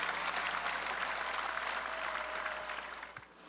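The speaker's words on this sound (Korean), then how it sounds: "유족들에게 감사의 박수를 보냅시다." An outdoor crowd at a prayer rally on a plaza in Seoul applauds steadily, a broad, moderately distant wash of clapping that holds and then tapers off toward the end.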